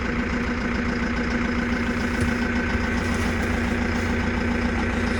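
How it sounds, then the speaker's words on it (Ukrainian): A Massey Ferguson tractor diesel engine idles cold just after starting, a steady low rumbling drone with a constant hum and no change in pace, close and loud without talk. "Включайте зажигання, нажимайте сцепляння. Сцеплення. Запускайте."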